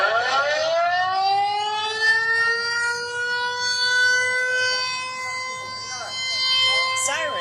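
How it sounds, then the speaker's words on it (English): A loud, wailing air raid siren holds a steady rising tone throughout during the annual Wan'an air raid drill in Taiwan, with faint voices and background noise beneath it. "Sirens went off at exactly 1:30 p.m. local time as the annual Wan'an air raid drills kick off"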